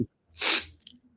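A single close, sharp sneeze bursts out after a short silence, followed by a few faint breathy sounds.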